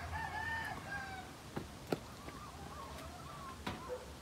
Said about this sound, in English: And there's turkeys.